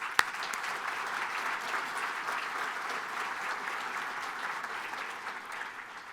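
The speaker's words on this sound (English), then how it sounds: "Give yourself a round of applause." An audience at a breakfast event breaks into steady, dense applause, a broad wash of clapping that holds evenly throughout and fades slightly near the end, with one sharp clap standing out at the start.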